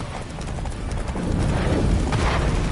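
Roach, a horse in The Witcher 3 video game, gallops hard with rapid, steady hoofbeats and a loud, continuous rush of wind and storm noise throughout.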